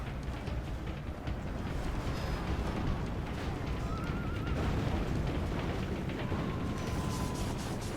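Siege weapons in Medieval 2 Total War pound a city wall as heavy booming impacts and rumbling blend into continuous battle noise, with mechanical creaks and faint distant shouts throughout.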